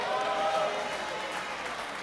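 An audience at an evening event breaks into dense, steady applause, a broad wash of clapping heard close and fairly loud for a couple of seconds with no speech over it.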